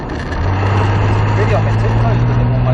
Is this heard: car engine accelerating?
yes